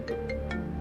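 A mobile phone rings with an incoming call, a repeating electronic ringtone pattern of bright tones over a low steady hum, heard alone at moderate volume in an indoor scene.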